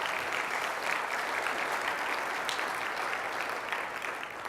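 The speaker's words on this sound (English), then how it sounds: "Please, a big round of applause." A conference audience claps steadily for their co-chair, a thick, even wash of applause at moderate loudness throughout, with no break.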